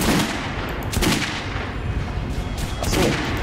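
Repeated gunfire from a weapon in Metro Last Light, aimed at a training dummy on a firing range: a few sharp, loud reports spaced over a few seconds, standing out against a steady game soundscape, with no talking.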